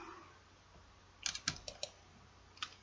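A few quick, quiet mouse clicks on the Windows 10 touch keyboard button in a loose cluster, then one more click a moment later, over a faint background hum.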